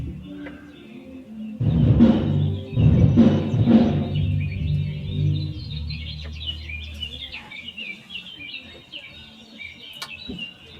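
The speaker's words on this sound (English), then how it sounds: "how many of you enjoy listening to the birds in the mornings?" Birds chirp and sing faintly in the background while low vocal sounds occur early on, the birdsong continuing alone afterward.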